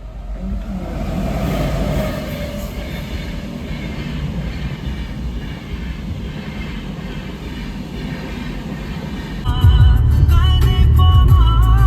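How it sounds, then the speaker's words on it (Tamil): A steady, loud rumble of a train rolling in nearby, broad and continuous, swelling louder and harsher toward the end. "ட்ரெயின் வந்துருச்சு."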